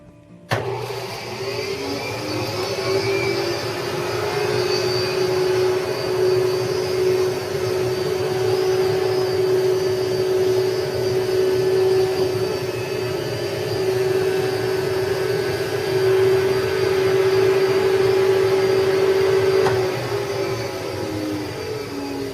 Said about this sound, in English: Now I vacuum the down out of the box and blow it into the quilt.